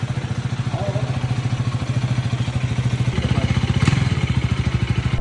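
A KTM motorcycle engine thumps in a fast, steady, loud rhythm close by as a ride begins from home, with a brief rising surge near the end.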